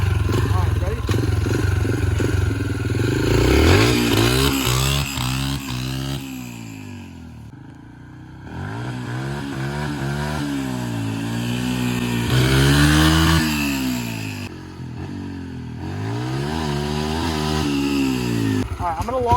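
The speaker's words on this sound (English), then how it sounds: "I'll start in 1st gear, bang through every gear here, do a top speed run" A dirt bike fitted with an oversized rear sprocket accelerates hard through its gears, the loud close engine rising in pitch, dropping at each shift and climbing again, with a voice briefly heard.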